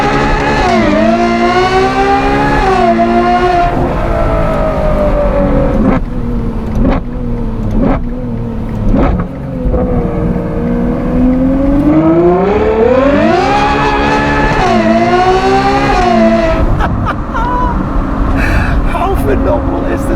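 A black Novitec-tuned Ferrari 812 GTS V12 supercar revs and drives in Johannesburg, its engine note rising and falling through loud, sweeping gear pulls, close and powerful, with talk over it.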